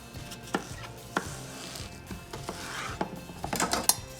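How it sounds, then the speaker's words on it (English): A knife cuts through a cucumber on a board, giving a few sharp separate thunks and taps spaced across the moment and closing in a quicker cluster of knocks, with no talking. "Cucumber, split it in half."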